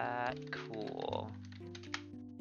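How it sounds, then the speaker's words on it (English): Quick clicking keystrokes on a computer keyboard come in bursts beneath a voice that talks and sings over them throughout. "Why am I typing like that?"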